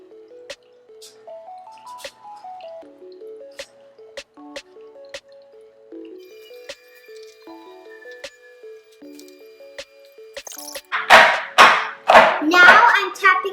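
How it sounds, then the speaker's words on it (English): Banana muffin batter is spooned into a muffin tin near the end, a few loud wet, squishy plops arriving after a stretch of light plinking background music. "Now it's time to put the mixture inside of our tin."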